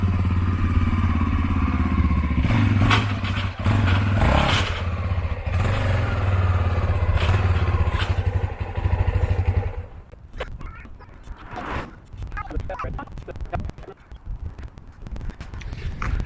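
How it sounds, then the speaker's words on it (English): Motorcycle engine running loudly up close while the bike is loaded onto a Harbor Freight hitch carrier, then cutting out to metallic clatter and thumps of the bike settling onto the rack. "Alright, so I loaded the bike up."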